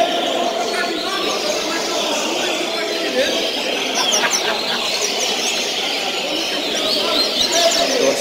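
A double-collared seedeater sings during a bird-song tournament, its bright repeated chirps and trills running continuously under loud, busy crowd chatter and background noise.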